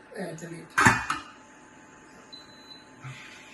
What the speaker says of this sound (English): I just turn this off now and put on the lid.